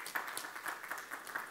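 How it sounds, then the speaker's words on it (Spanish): A church congregation applauds, steady distant clapping at low volume with a scatter of louder individual claps and no voices. "fuerte el aplauso para mi hermano"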